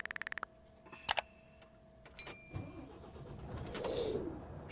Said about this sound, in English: We can start the engine and get going now.